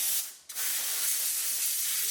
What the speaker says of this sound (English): Then I'll take the blowgun and I'll just kind of